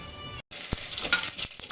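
Sliced onion drops into hot oil in a heated pot, with garam masala already added for a chicken curry, and bursts into a bright, steady sizzle after a brief silence, broken by a few light utensil taps.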